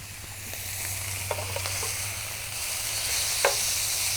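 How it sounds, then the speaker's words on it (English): Skirt steak sizzling in hot olive oil in a pan, a steady close hiss with a few faint clicks and taps as the meat is flipped, no voices. "I'm going to go ahead and flip that other steak"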